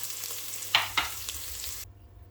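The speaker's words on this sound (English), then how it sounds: "check on the veg is frying lovely" Steady sizzling of vegetables frying for stock, with a couple of sharp clicks from stirring, then it cuts to silence.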